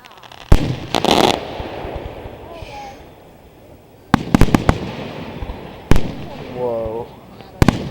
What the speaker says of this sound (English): They're just shooting up a whole bunch of little ones, Coley.